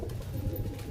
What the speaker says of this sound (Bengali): এই দেখুন পায়রা দেখুন কেমন